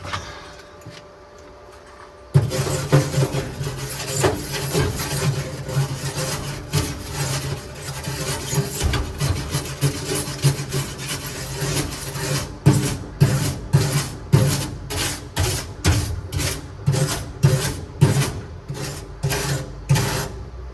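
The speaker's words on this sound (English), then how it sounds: "Let me get my brush. We'll clean up that weld real quick." A brush scrubs a weld on a 1958 GMC project. After a quiet start it gives close, loud, rasping strokes, first continuous, then a steady back-and-forth rhythm of distinct scrubs, with no talking.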